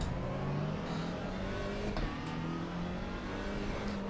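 A car driving in the racing sim Assetto Corsa EVO, its engine droning steadily with rising and falling pitch through gear changes, continuous and close.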